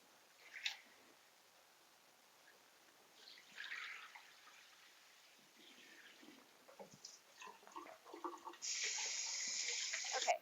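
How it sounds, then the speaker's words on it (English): Water running and splashing while soapy wool fiber is rinsed, faint at first, then a few sloshes, building to a steadier stream of water near the end. "So we're going to be doing some rinses."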